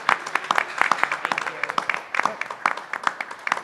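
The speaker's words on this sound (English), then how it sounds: "So give her a round of applause." A conference audience applauds a panel moderator at an afternoon session, scattered sharp individual claps in an uneven patter rather than a dense roar, moderately loud and close.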